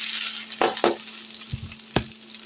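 Okra tipped into a pan of fried onions sets off a steady, close sizzling hiss, broken by a few sharp knocks of a spoon or utensil against the pan.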